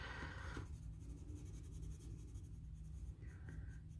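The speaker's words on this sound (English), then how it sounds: "Burnishing is what this is called, when you push hard enough to smooth out your paper and the colored pencils." Wax-based colored pencils such as Prismacolor pressed hard against paper to burnish it, giving a soft continuous scratchy rubbing, close and quiet, with no talking.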